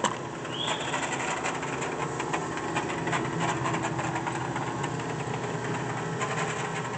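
A Wysong Model 55-6 mechanical press brake, 96-inch by 10-gauge, running with a steady mechanical hum and faint rattling vibration that holds evenly throughout.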